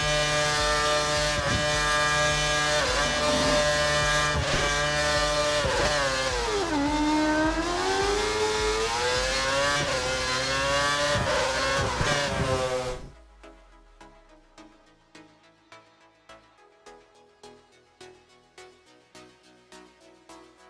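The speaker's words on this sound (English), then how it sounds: "Head down the track accelerating past 257 kph, then brake so that you come to a complete stop in the designated area." A Formula 1 car in the F1 2013 racing game accelerating hard down a straight, its engine locked to a lean setting, a loud high-pitched whine climbing through rapid gear changes before cutting away to quieter rhythmic tones.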